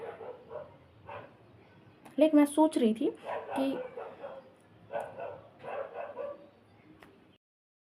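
Dogs bark in a short cluster of yelps, mixed in with someone talking nearby.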